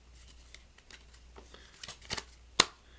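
A deck of playing cards is cut, giving soft quiet riffles and slides that end in one crisp snap of cards.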